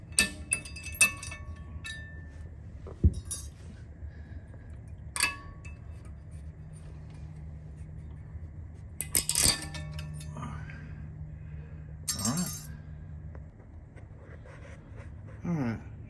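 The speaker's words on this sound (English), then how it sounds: "You want to remove these metal rattle clips." Metal brake rattle clips being pried out of a rear brake caliper on a 2018-2023 Honda Odyssey: a handful of sharp, close metallic clinks and ticks, spaced a few seconds apart, over a low steady background hum.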